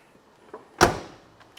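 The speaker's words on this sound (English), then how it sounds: "Door closes really nice and tight, real securely there." A 1968 Chevrolet Camaro door swings shut in one solid, close thump with a short ringing decay, preceded by a faint latch click.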